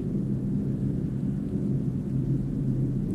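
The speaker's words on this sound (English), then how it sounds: "it's having a nice rain" Steady low rumble of rain and distant thunder in the video game Signal Simulator, a continuous dull roar with no distinct claps, filling the whole stretch.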